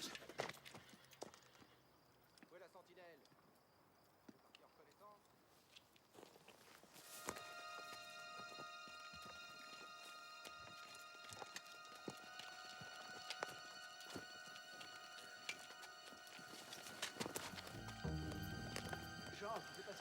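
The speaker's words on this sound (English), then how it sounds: "Horses." Horse hooves clip-clop steadily as the animals come closer, joined by a whinny, with voices talking over the sound.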